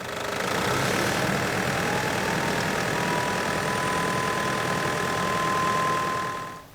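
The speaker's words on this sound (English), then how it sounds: "it'll bring the engine idle up and it'll help it warm up a little bit quicker" A Nissan Patrol engine idles steadily and loudly up close with the coolant being replaced, a constant rumbling drone that fades out at the end.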